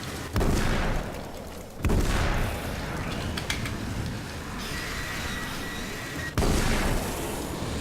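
A few loud, sharp booming shots in the video game Alan Wake's American Nightmare ring out, spaced several seconds apart, each followed by a rumbling echo over background noise.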